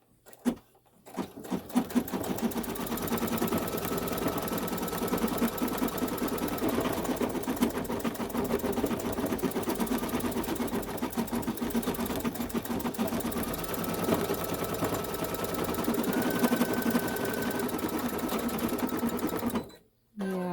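An embroidery machine stitches out a quilt block with a fast, steady mechanical whir and needle patter, running continuously at close range before stopping abruptly at the end.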